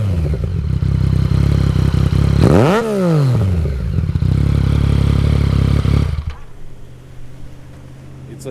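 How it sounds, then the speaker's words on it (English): Yamaha MT-09 motorcycle with an Akrapovic full exhaust idles loudly up close, blips into a sharp rev that rises and falls, then keeps burbling before the sound drops to a quieter idle near the end. "I just want to ask you to start the engine because you've got really nice exhaust."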